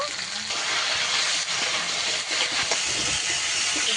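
Taro (kochu) pieces fry with salt in a pan, a loud steady hissing sizzle that fills the whole stretch, with occasional soft stirring knocks underneath and no talking.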